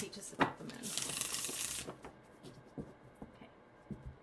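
A deck of cards is riffle-shuffled once, giving a crisp, dense burst of about a second. Faint taps and handling noises follow as the cards settle.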